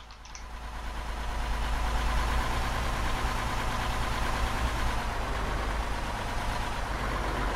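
Car engine in ARMA 3 labouring up a hill, a steady low drone that swells over the first second and then holds loud and constant throughout, with no talk.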